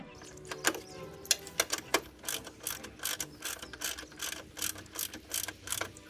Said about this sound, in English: I'm just stripping this screw out.